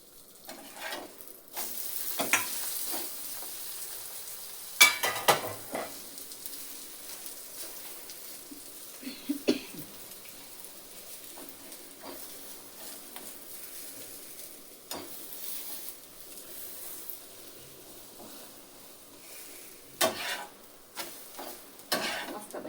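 Omelette in a pan with oil poured in, a soft low sizzle running throughout and punctuated by scattered scraping and clinking of a spatula against the pan.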